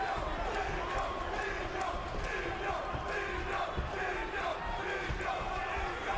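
Fight crowd at a boxing bout between champion Gilbert Melendez and challenger Masvidal chanting the champion's nickname, a dense, steady roar of many voices filling the arena throughout.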